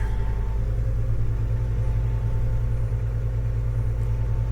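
A tractor engine idles with a deep, steady, throbbing rumble, loud and close, unchanging throughout with no voices.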